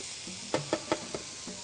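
Smoked chicken and mortadella slices warming in a pan make a quiet sizzle, broken by four quick knocks or taps of a utensil in a loose rhythm, close and soft with nobody speaking.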